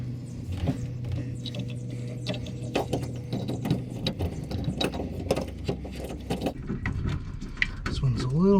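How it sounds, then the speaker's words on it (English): Screws are driven into a 2020 Jeep Gladiator bed rail with a ratcheting tool, giving repeated close clicking and whirring bursts with clanks, fairly quiet overall. "start getting these screws on this one."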